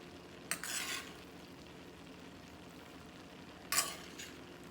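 Spoon stirring seasoned ground beef with onions and green peppers in a pot for chili, two short scraping bursts near the start and toward the end over a quiet, faint background.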